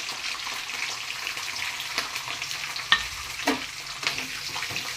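Green chilies, curry leaves and crushed garlic sputter in hot oil, a steady close sizzle broken by sharp pops and crackles, with no voices.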